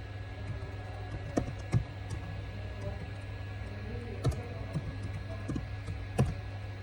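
Computer keyboard keys tapped for an Excel formula entry, sparse quiet clicks scattered among a steady low hum, a few sharper strokes standing out.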